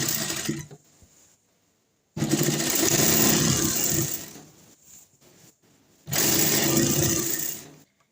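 A sewing machine stitches a single fold in the fabric of palazzo pants, whirring in two long, loud runs with a quieter pause and soft handling noises between them.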